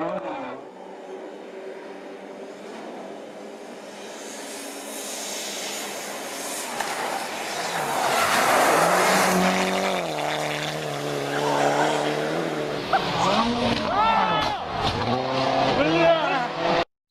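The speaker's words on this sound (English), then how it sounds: "Quattro is legendary, bro. Nice, sweet sound." Audi Quattro rally car blasting through a stage, engine revving and popping with rising and falling pitch, tires scrabbling and squealing, loud and close, building from a distant approach into repeated sharp throttle bursts.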